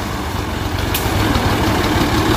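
A tractor pulling a wheat seed drill in a field runs with a steady, close engine drone and a continuous rumbling, clattering texture throughout.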